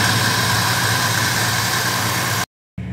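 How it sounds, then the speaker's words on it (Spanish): A 1972 Oldsmobile Toronado car engine runs close by with a steady, loud drone. The sound cuts out briefly near the end, then resumes. "Ahorita lo vamos a acelerar."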